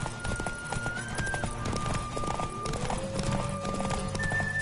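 Horse hooves clip-clop at a gallop in the Witcher 3 video game, with several drawn-out neighs and whinnies over the rapid rhythmic hoofbeats, loud and close.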